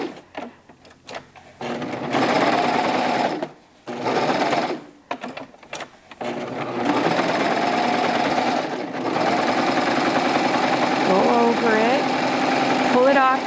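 A serger overlocking fabric around the edge of a sewing project, with several short starts and stops early on before a long steady motor hum, close and fairly loud, with some talking mixed in.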